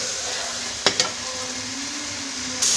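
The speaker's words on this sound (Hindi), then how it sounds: "ये देखें प्याज अच्छे से फ्राई हो रहा है" Onions and tomatoes fry in oil for a Pakistani-style fish masala, giving a steady close sizzle with two quick clinks of stirring near the start and a brighter hiss surge at the end.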